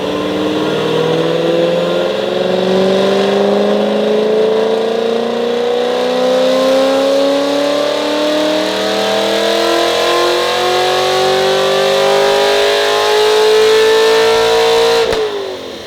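A Corvette C7 Grand Sport with built rods and pistons and low compression revs hard on a dyno, its engine note climbing steadily and loudly for the whole pull before cutting off sharply at the end.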